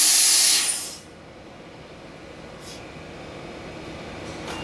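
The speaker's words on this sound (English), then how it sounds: "I would then open the vent, which I would open both, which sounds like this." A vent valve on a Chart VLCD cryogenic tank releases pressure with a loud, bright hiss that cuts off after about a second, leaving a low steady background rush with faint brief hisses later.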